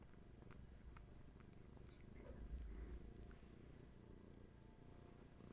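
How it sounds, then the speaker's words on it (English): A cat purrs softly and close by in a quiet room during a Reiki and crystals session, a low rhythmic rumble that swells slightly midway and continues alone without talking. "Again, you can enjoy Hattie's purrs, bringing you back."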